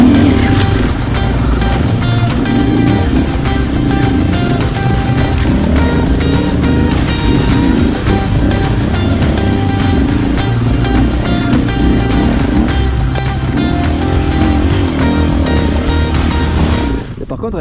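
KTM EXC 2024 enduro motorcycles ridden off-road: a loud, continuous engine drone that rises and falls with throttle changes, dropping away at the very end.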